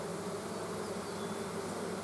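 A dense, unbroken drone of many bees fills the air around an open hive being worked with smoke, steady and close throughout.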